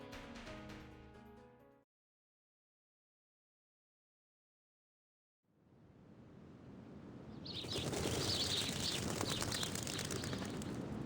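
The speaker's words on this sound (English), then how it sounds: "The sound of birds chirping fills the air." Birds chirping across open plains in the video game Reverse 1999, a dense bright chorus of twittering rising after a silent gap and steady ambient wash, swelling louder toward the end.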